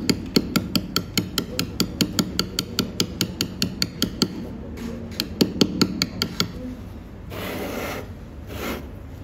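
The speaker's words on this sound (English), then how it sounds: "So you drive your chisel in at the 45 degree angle." A hammer drives a chisel into stone for letter cutting, giving a rapid, even run of sharp close tapping strikes, then a few slower separated blows and a brief scraping rub toward the end.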